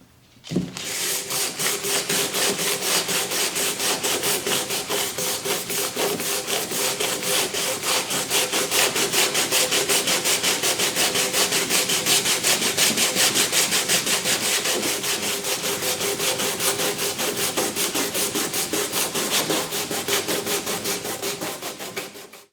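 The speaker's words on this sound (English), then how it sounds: "What I needed to do was an 80 grit, because this super coat that they put on here is insanely hard to get off." Sandpaper of 80 grit scrubs the hard coating off a Racing Shields polycarbonate windshield for a 1993–2001 Subaru Impreza GC. Fast, even rasping strokes continue loud and close for about twenty seconds.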